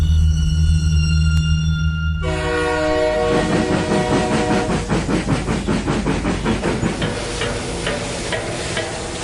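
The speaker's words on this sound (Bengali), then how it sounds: "ট্রেনটা তাকে ফেলে রেখে দ্রুত গতিতে ছুটে বেরিয়ে গেল স্টেশন চত্বর ছেড়ে" A train sounds its horn with long sustained tones, then thunders through a station with loud rhythmic clickety-clack of wheels on rails rolling steadily past, close and without talk.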